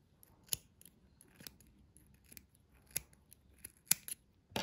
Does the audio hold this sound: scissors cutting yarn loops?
yes